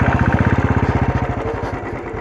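A motorbike's engine chugs in a steady, close pulsing rhythm while riding over a rough road, the beat loosening and growing less regular toward the end.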